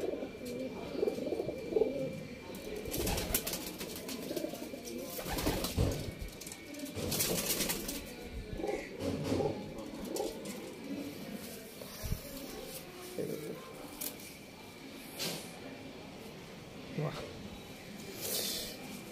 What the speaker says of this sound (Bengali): আরেকটা মেচিয়া পায়রা।